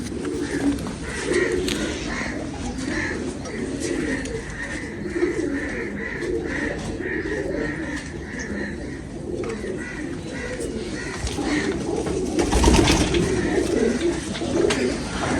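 Domestic pigeons cooing, repeated soft rhythmic coos from several birds nearby, continuous through the scene with faint background noise and no talking.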